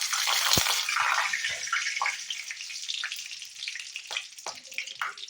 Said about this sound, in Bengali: এবার তেলের মধ্যে দিয়ে দেবো 4-5টা লং, 2টো এলাচ আর 2টো শুকনো লঙ্কা।